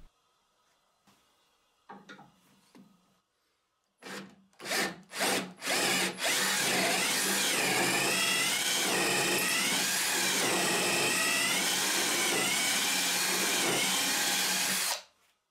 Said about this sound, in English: I will use a metal 8mm drill bit to enlarge the hole inside the pipe